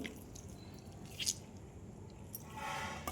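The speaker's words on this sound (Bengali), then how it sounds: "সেগুলো আমি জল চিপে এখানে একটা পাত্রের মধ্যে নিয়ে নিচ্ছি" Boiled soybeans being squeezed by hand to press out water, giving soft wet squishes and drips, fairly quiet and close, with a brighter squelch near the middle and another toward the end.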